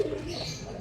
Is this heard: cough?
no